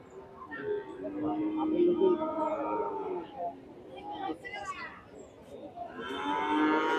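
Young bull calves at a cattle market moo loudly and repeatedly, long droning calls overlapping one another, with people talking in the background.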